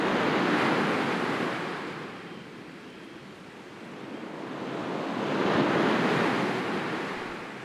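Sea waves roll onto the shore in two broad swells, surging loud, easing off in the middle, then building again, with a steady wash of surf and some wind noise and no voices.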